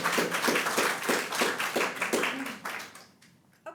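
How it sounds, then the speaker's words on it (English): An audience claps in steady rhythmic bursts that fade toward the end, with no voices over it. "everybody keep clapping"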